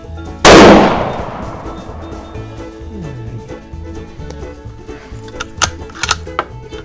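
A Savage model 840 rifle chambered in .222 Remington fires a single loud, sharp shot near the start, its report decaying over about a second, followed by quieter mechanical clicks and handling noises.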